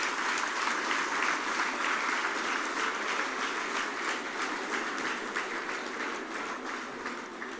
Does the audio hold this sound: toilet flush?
no